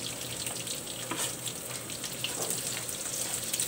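Garlic dropped into a hot frying pan gives a steady, fairly loud sizzle with a crackling hiss that holds evenly throughout, no voices over it.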